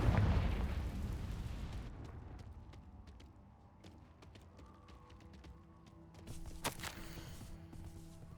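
A Confringo blasting spell detonates in Hogwarts Legacy with a loud booming burst at the start, fading into a low rumble with scattered crackling debris and a smaller thump later.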